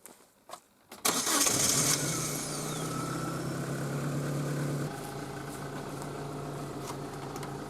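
A vehicle engine cranks briefly after a few clicks, then catches and roars up before settling into a steady idle that drops slightly lower near the end, close and clear on a rough dirt road.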